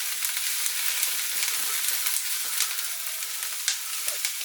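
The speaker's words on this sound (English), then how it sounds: "And then give that a good old stir." Chopped ingredients being stirred into BBQ sauce in a pan, giving a steady sizzling fry with scattered scraping and stirring clicks, close and continuous with no talking.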